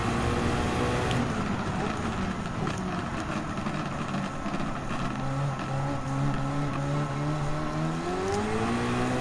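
A Honda NSX Concept GT 2016 race car in Gran Turismo 7 roars steadily throughout, its engine note climbing and dropping through gear changes, loud and close, with a voice talking over it at times.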